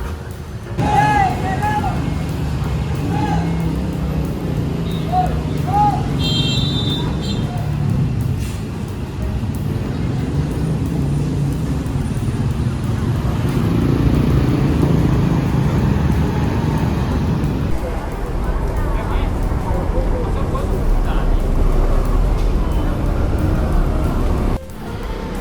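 Harapan Jaya Super Luxury Avante D1 sleeper bus pulling in at the Grogol agency office, a steady loud engine and road rumble with traffic around, a voice talking over it, then the engine drops off near the end.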